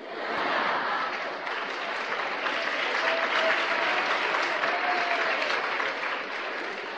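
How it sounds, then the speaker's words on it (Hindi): An audience at a Hindi public lecture breaks into steady, full applause, many hands clapping evenly at moderate loudness for several seconds, rising slightly at the start and tapering near the end. "जिस पे ताली नहीं बजानी चाहिए उस पे ताली बजाते हैं।"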